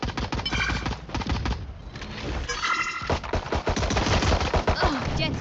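Dense, loud bursts of rapid gunfire during a Valorant match, continuous sharp shots crowding together with little pause throughout.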